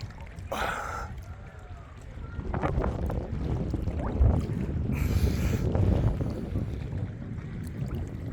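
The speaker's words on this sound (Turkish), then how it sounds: "İşte insanlar buraya teknelerle geliyor" Boats moving near Olympos cove in Antalya, a low motor rumble and water churning carried under gusting wind noise, growing louder midway and staying close.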